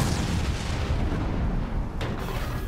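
Cannon fire from ships in the Skull and Bones pirate naval game, a dense booming rumble throughout with a sharper burst near the end, loud and without speech.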